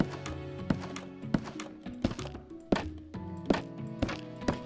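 Nether wood blocks in Minecraft give a steady run of dull, hollow taps, about a dozen knocks in an uneven rhythm, close and moderately loud, with no voices.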